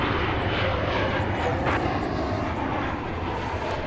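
An airliner taxis out of a hangar at DFW Airport toward the terminal, producing a continuous loud engine rumble and hiss that stays steady and close throughout.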